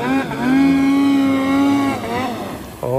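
A snowmobile engine revs hard and close, holding a high whine for over a second before dropping off and then surging again.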